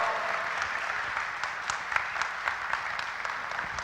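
Steady applause from an audience after a talk on white-tailed deer management during drought, dense even clapping filling the room from start to finish with no voices.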